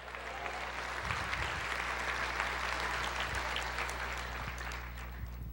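A church congregation applauds, a broad, even wash of clapping that fills the space steadily from start to finish, heard from a distance with a low hum beneath it.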